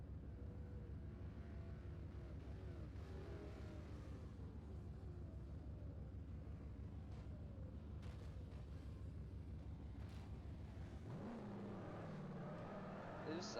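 AI race cars in Forza Motorsport 4 drone past with steady engine whine and gear-shifting pitch sweeps, quiet and distant, then a nearer car rises in pitch toward the end.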